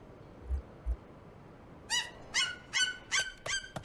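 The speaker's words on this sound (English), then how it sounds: "That bird." Bird calls from the city-building game Pompeii Legacy: two soft low hoots, then a series of five or six bright, clear chirping calls in quick succession, fairly loud over quiet background hiss.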